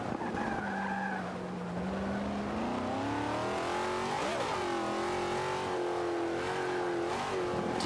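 A Z06 Corvette in Forza 5 revs and accelerates through the gears, its engine note rising and falling with tire squeal and skidding, steady and prominent throughout.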